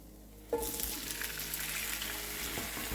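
San Marzano tomatoes and garlic hit a hot pan with a sudden burst of sizzling that settles into a steady, close frying hiss, with no speech.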